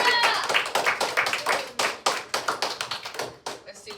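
A small classroom group claps in a quick, uneven burst of sharp, close hand claps with short pauses between clusters, loud and crisp throughout, without any talking over it.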